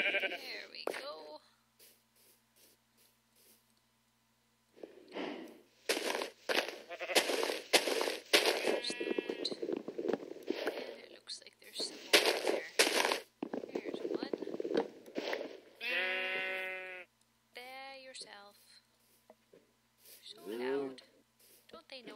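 Sheep bleat repeatedly in the video game Minecraft, with a few clear, fairly close bleats among game clicks and footstep sounds while a person talks over much of it.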